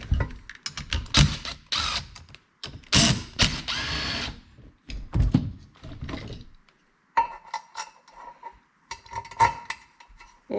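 A power tool unbolting stock brackets from the valve covers of a C6 Corvette's LS engine, with short close bursts of whirring and clicking separated by pauses, followed by metallic clinks of handled parts.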